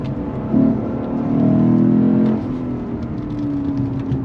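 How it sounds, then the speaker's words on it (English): A 2024 Lexus IS 500 F sedan's engine revs hard toward redline, a loud rising drone that swells mid-clip and then settles into a steadier note, heard from inside the car with no talking. "All the way out the red line. Listen to that engine."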